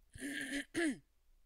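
Two quick, close throat-clearing rasps, the second shorter with a rising-then-falling voiced edge, followed by quiet.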